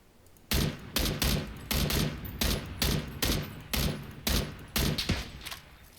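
Bursts of gunfire from the battle royale game PUBG ring out in a steady run of about a dozen sharp, loud shots spaced roughly half a second apart, with no talking over them.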